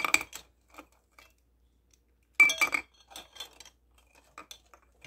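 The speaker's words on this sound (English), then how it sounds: "Basically, I just stir them around, bring them up, bring them down a couple times." Plated jewelry and computer pins stirred around in a container, bright metallic clinks and rattles in two bursts separated by a quiet gap, the second burst longer and trailing into scattered light taps, close and crisp.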